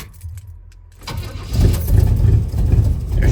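After a quiet moment, a small-block 350 V8 in a 1985 Chevy square-body truck cranks and catches, then settles into a loud, deep, rumbling idle close by.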